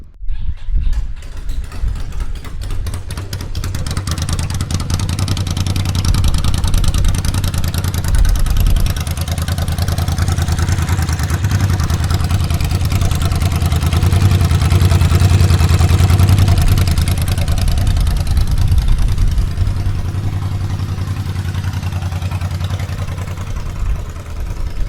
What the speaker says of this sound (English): This exhaust is very loud, straight piped as it is.